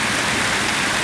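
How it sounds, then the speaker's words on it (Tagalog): Heavy rain pours down in a steady, loud, broadband roar with no breaks, close by and uninterrupted throughout. "naabutan ako ng napakalakas na ulan guys"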